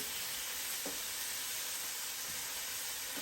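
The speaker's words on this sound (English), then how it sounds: "I'm gonna put the bacon in right here." Bacon sizzles and crackles in a pan as it starts to fry for sautéed cabbage with sausage, a soft, steady hiss with faint pops that stays close and quiet throughout, with no voices over it.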